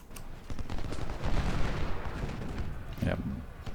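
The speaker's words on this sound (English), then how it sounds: "Yep, that's canister shot." Canister shot artillery fire in Ultimate General: Civil War at Gettysburg, a rolling burst of crackling cannon and musket fire that swells and fades, followed by a sharper single blast near the end.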